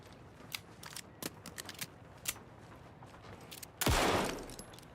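Shotgun blasts fired at a keypad lock in Alan Wake 2 crack out as sharp isolated reports, the loudest a heavy boom near the end that decays slowly, with faint clicks and handling sounds between.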